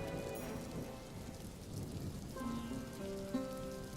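Rain falling during a flood in an animated Bengali folk-tale cartoon, a steady hiss of rain on surfaces with a low rumble, while soft music tones rise underneath.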